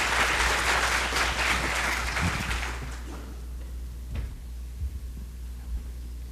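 Applause from a conference talk audience, fairly dense at first, then thinning out and fading into a low room hum with a few scattered claps.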